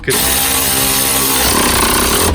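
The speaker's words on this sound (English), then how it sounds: "It stopped because the ratchet doesn't have enough power." A power ratchet driving the nut on a Vauxhall Meriva stabiliser link, a loud close whirring drone that runs steadily then shifts to a rougher, stuttering tone as the nut tightens and the tool slows.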